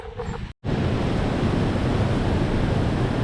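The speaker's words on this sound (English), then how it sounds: "Through there's a waterfall. It's absolutely raging, throwing up lots of spray and mist" A powerful, continuous roar of a raging waterfall inside Smoo Cave fills the space, broad and steady after a brief dropout near the start.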